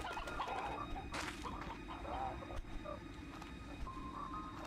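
Chickens clucking inside a video game, sparse faint clucks and short calls over a steady background of game ambience and music.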